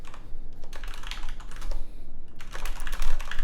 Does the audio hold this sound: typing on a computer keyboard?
yes